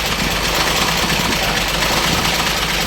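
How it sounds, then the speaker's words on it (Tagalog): A car engine with a P1094 fault idles close by, a loud, rough, continuous rumble with a slightly uneven, pulsing character. "Naririnig ko man ata yung andar niya ay taas baba."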